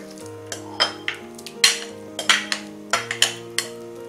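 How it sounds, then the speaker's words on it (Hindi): Mashed vegetables tipped into a pav bhaji pan and stirred, with a series of crisp metallic spatula knocks and scrapes in an uneven rhythm over a faint steady sizzle, up close, with no voices. "हमने जो सब्जियां मैश करके रखी हुई थी वो अब हम इसमें डालेंगे।"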